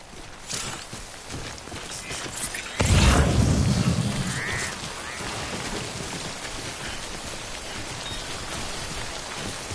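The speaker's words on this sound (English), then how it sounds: "Don't stay out in the rain any longer than you have to." Steady rain, the timefall of the video game Death Stranding, hissing continuously throughout, with a brief louder rumbling swell near the start before it settles back into a constant patter.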